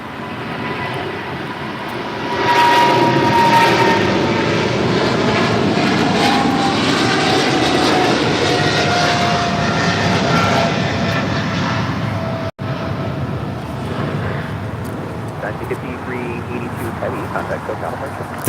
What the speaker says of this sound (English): This is China Airlines Cargo 5382 taking off to Miami, Florida on a 777 freighter.